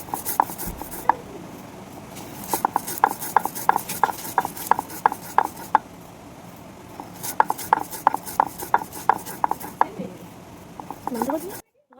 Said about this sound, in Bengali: এবারে শিখে ভালো করে গুঁড়ো করে নেব ধনেটাকে